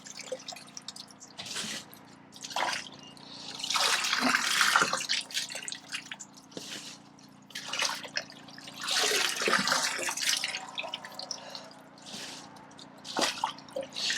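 Water splashes and drains in uneven bursts from washed greenhouse vegetables in a small strainer at a wash station, with dripping between the louder pours.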